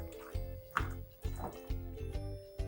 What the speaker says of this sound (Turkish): Yoğurdumu güzelce karıştırdım.